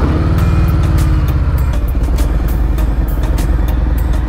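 A 2018 Harley-Davidson Fat Bob 107 motorcycle rides along with its V-twin engine loud and close, a deep throbbing rumble that shifts pitch as it accelerates, mixed with wind buffeting and light mechanical clatter.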